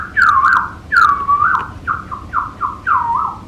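A man whistles in imitation of a bird call, a series of loud, close warbling notes that swoop downward, repeated in short rhythmic phrases with brief pauses between them.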